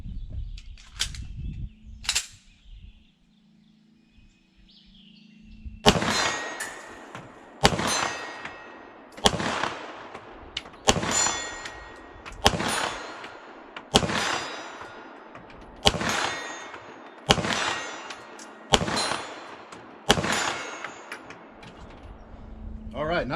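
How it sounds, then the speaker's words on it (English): A Sig Sauer P320 AXG pistol fires about ten evenly spaced shots, each followed by the bright metallic ring of a steel plate at 40 yards, after a few quieter handling clicks at the start. "I'm enjoying shooting this pistol."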